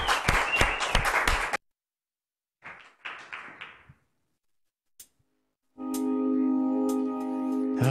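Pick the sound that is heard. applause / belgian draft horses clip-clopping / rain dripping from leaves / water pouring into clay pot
applause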